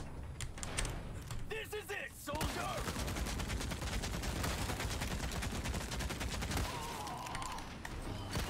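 Gunfire from Resident Evil 4 Remake on Professional difficulty, a dense run of sharp shots and clattering impacts over a steady game soundscape, with someone talking over part of it.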